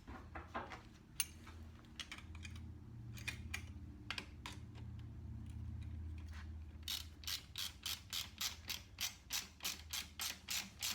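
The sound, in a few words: tightening a bolt on a Norton Commando 750 motorcycle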